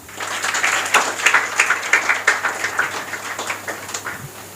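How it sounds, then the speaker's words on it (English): An audience at a confidence-building program at an English academy claps in a steady burst of applause, moderately loud, rising quickly and then tapering off over several seconds. "Please clap for ma'am."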